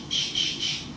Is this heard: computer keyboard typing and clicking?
no